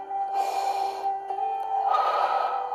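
Breath pushed out during a beginner Pilates exercise, two forceful nasal exhalations close by, each lasting about half a second to a second over a steady background hum, with no talking.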